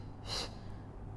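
A single forceful breath pushed out during a Pilates ab exercise, a short, breathy burst standing alone against a steady low background hum.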